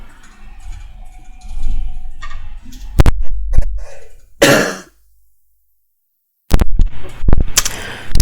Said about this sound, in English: Excuse me, I had to cough there